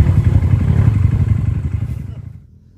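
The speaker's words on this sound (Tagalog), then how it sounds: "ang nasa likod ang may-ari ng motor na inakyat ni Bren at saka inakyat ni Jonas kanina" A dirt bike engine rumbles and revs steadily while climbing a hard enduro trail at Mt. Paldingan, loud and close with clattering, then fades away near the end.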